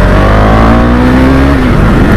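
A loud, close KTM Duke 390 motorcycle engine revving, its pitch climbing steadily before dropping off, dominating the whole moment with no talking.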